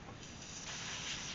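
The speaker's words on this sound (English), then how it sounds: "get some silicone spray, give it a few squirts" Silicone spray squirts onto the power mirror mechanism of a 2005 Acura TL, a continuous close hiss lasting just over a second with no voices.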